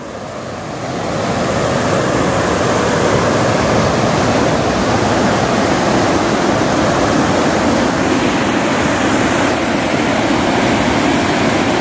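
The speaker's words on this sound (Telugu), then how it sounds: "ఆ గేట్స్ నుంచి వాటర్ ఫ్లో అవుతూ వస్తుంది" Water rushes through dam gates as a loud, constant roar of flowing water, rising in the first second and then holding steady without any voices.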